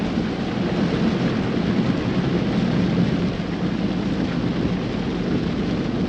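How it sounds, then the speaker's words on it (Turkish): Steady rain drums against a moving Audi A3 Sportback 1.6 TDI, mixed with a constant low road rumble and whooshing noise, with no talking. "çünkü yağmurlu bir hava var"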